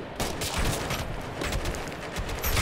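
Dense gunfire rattles through a battle in Operation Flashpoint: Red River, a continuous loud fusillade of overlapping rifle and machine-gun bursts with no pause.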